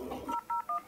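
Telephone keypad dialing tones beep in a quick series of distinct, evenly spaced pulses, loud and clean after a brief muffled rustle.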